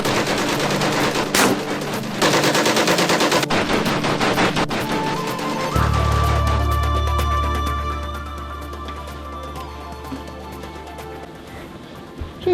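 Loud, sustained machine gun fire in a tabletop battlefield game, dense bursts that fade to rattling echoes and a lingering low rumble.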